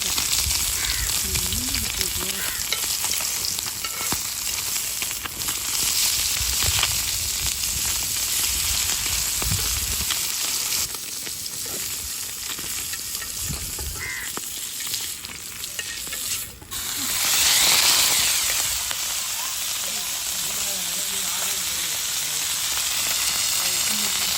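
A fish curry bubbles and sizzles steadily in a pan up close, a continuous simmering hiss with occasional stirring scrapes.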